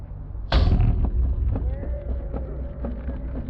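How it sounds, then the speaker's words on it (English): Outdoors on a windy field, a kicked football strikes a metal goal post with a sharp, loud clang at about half a second, its ringing tone lingering under heavy wind rumble. "That's the worst sound you can hear as a kicker too. Hitting the pole, yeah, or crossbar."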